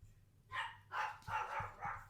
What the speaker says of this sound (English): you can probably hear him barking in the background